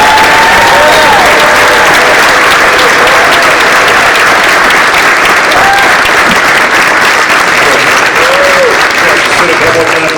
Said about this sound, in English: We will celebrate this February signing class here at Bolles with a big round of applause